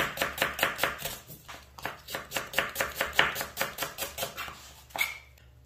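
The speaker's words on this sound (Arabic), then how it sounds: "أقطع البصل جوانح" A knife chops 4-5 medium onions into wedges on a board, giving a quick, steady run of close crisp thuds. One brief pause comes in the middle and the last cut falls near the end.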